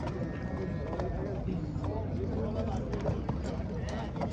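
Horses at a horse market in Uzbekistan, hooves clip-clopping in an uneven patter amid a busy crowd, with someone talking over the hoofbeats throughout.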